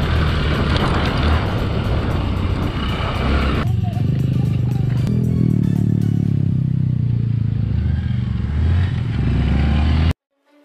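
Honda CRF150L motorcycle, a 2019 model, riding off-road, with a loud near engine drone and clattering that shifts in pitch midway before cutting off abruptly near the end.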